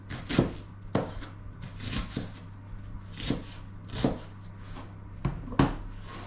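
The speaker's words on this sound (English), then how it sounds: "to cut the onions. I'm using 1 onion." An onion being chopped with a knife on a board, a series of distinct, fairly close thuds at an uneven, unhurried rhythm, about a dozen cuts with quiet pauses between.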